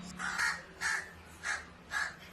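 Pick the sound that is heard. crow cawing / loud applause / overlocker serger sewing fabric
crow cawing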